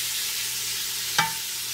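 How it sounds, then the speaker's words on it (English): Beef browns in olive oil in a large pot, giving a steady close sizzle with one sharp clink of a utensil partway through. "We're going to cook our beef. We're gonna try to brown it a little bit."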